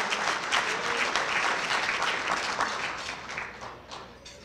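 Sustained applause from a banquet audience at a high school football awards dinner, dense and steady, fading slightly toward the end.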